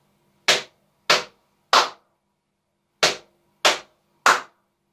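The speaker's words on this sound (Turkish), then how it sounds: "İki kez dizimize vuruyoruz. Çift elimizle. Ve bir kez alkışlıyoruz." Body percussion played alone in two identical phrases: two sharp slaps of both hands on the knees followed by a single hand clap, then a pause and the same three crisp hits repeated.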